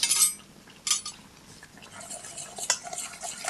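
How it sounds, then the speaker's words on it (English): A sugar and soy milk paste for custard being stirred in a bowl: a utensil scrapes and clinks against the bowl in short, uneven strokes, fairly close and moderately quiet, with no talking. "So give that a bit of a stir"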